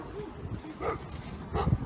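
Dogs at a vet make short yips and woofs, two or three brief bursts, fairly close but muffled over a noisy background.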